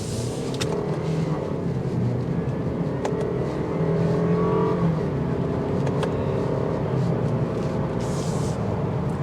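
A 2023 Lexus IS 300's turbocharged 2.0-litre inline four-cylinder engine drones steadily with a rising hum as it accelerates, heard from inside the cabin with a few faint clicks.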